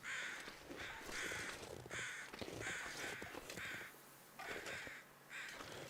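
Crows in The Long Dark give repeated harsh caws in a regular rhythm, fairly close and loud against a faint wind-like background.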